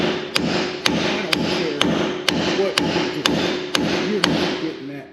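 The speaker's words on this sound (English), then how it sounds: "let's get the big fabulous hammer" A big hammer strikes a seized steel strut mount bushing on a Dodge Ram truck, nine sharp metallic blows landing in a steady rhythm about every half second, close and loud over a low background hum.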